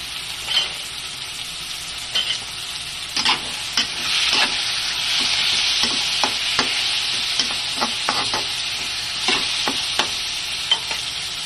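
Pork meat frying in a pan, a dense steady sizzle with sharp scraping stirs and clatters popping out at irregular intervals, close and loud with no voices.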